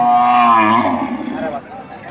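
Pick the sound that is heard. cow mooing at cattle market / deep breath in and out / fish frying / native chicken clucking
cow mooing at cattle market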